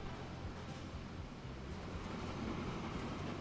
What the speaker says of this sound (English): We're also going to stop here for a second, just whilst this train gets out of our way.